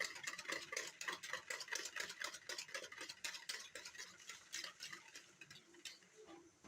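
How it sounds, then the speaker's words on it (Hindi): Two cups of room-temperature yogurt whisked for Punjabi kadhi: quick, rhythmic clinking and scraping strokes of a utensil against a bowl, fairly faint and close, slowing near the end. "ये है 2 कप दही। इसको हम अच्छी तरह से फेंट लेंगे।"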